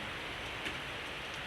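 Heavy rain pours steadily in Bhubaneswar, a dense, even hiss of rainfall with no breaks, heard on a walk back from the market.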